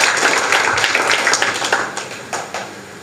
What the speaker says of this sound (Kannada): ಹರೀಶ್ ಸರ್ ಅವರಿಗೆ ಚಪ್ಪಾಳೆ ಮೂಲಕ ವಂದನೆಯನ್ನು ಸಲ್ಲಿಸೋಣ